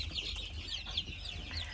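Chickens and young chicks on a farm, mixed breeds including Marans, clucking and peeping in soft repeated calls close by over a low background rumble.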